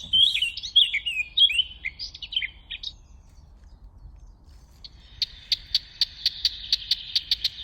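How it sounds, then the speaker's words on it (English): A blackcap sings a varied, warbling phrase, then after a pause a series of sharp, evenly spaced tacking notes repeats rapidly, fairly close and clear. "Sorry, that's the song again."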